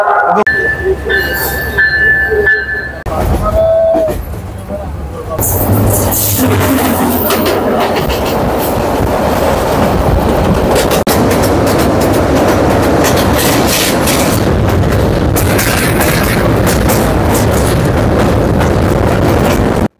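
A train from Dhaka to Akhaura, Bangladesh, rumbles along the rails, loud and close, with rhythmic wheel clatter and occasional squeals after a brief quieter stretch at the start.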